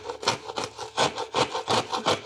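Rough, dried drywall mud being scraped away around a skylight hole in a ceiling, a steady series of rasping, gritty strokes repeating about every quarter second, close and fairly loud with no voices.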